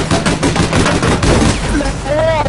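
Rapid gunfire from the online shooter APB, a dense, loud burst of shots that keeps going throughout, with a brief rising tone near the end.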